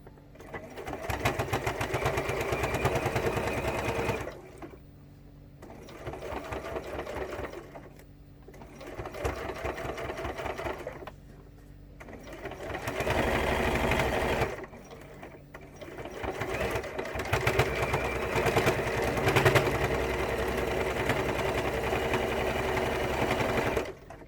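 A sewing machine stitches the curved edge of a landscape pouch in several bursts of rapid close mechanical chatter, separated by short quiet pauses as the fabric is repositioned.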